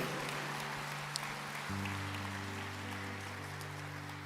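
A church congregation claps steadily in a dense wash throughout, beneath sustained keyboard chords that shift partway through.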